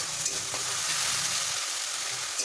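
Onions fry with ginger-garlic paste and tomato in a pan, giving a close, continuous sizzling hiss with faint spatters, steady throughout and without speech.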